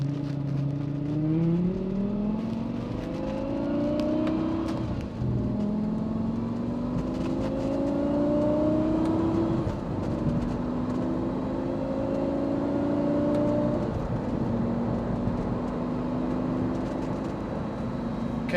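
A 2007 Lamborghini Gallardo accelerates hard through the gears, its engine note climbing repeatedly and dropping at each shift, loud and steady from inside the car, with no talking over it.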